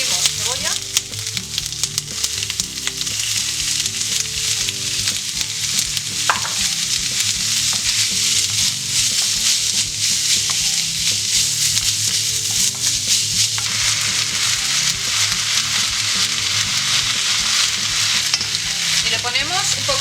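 Onion frying in a pan with garlic-ginger paste gives a loud, continuous sizzle with occasional stirring scrapes, close and steady, with no talking.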